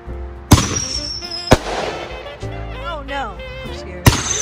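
Holiday fireworks go off in a few sharp, loud bangs, three distinct blasts spaced over a few seconds, with crackling and whistling in between.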